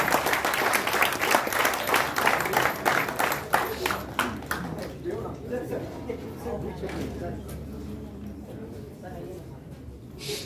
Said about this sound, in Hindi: मैं चाहूंगा एक बार जोरदार तालियां बजाकर स्वागत।